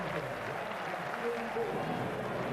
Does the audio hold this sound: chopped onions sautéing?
no